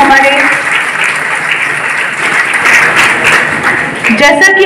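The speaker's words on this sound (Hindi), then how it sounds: "जोरदार तालियों के साथ इनका स्वागत करें" An audience at a student and worker felicitation ceremony on Gandhi Jayanti gives loud, continuous applause to welcome students, with a voice talking over the clapping at the start and end.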